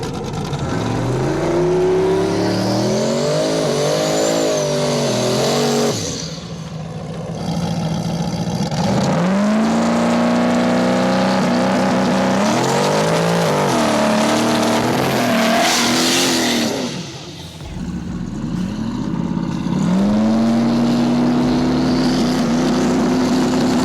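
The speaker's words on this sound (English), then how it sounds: "Last race of the semifinals is Guy in the Red Mustang versus Lieutenant Dan in the Green Mustang." Two street Mustangs, one red and one green, drag racing: loud engines rev hard and climb through gears in long wailing pulls, with brief drops between runs and a final roaring acceleration.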